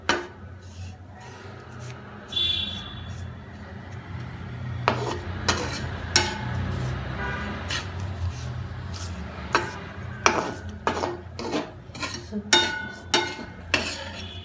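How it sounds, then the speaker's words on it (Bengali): Bay leaf, cinnamon and cardamom stirred in a pan over a medium flame, with a run of sharp metallic scrapes and clinks of a spatula against the pan, some louder than others, over a quiet background hum. "তারপরে দিয়ে দিচ্ছি তেজপাতা, দারচিনি, এলাচ দিয়ে আমি একটু মিশিয়ে নিব সবগুলো উপকরণ।"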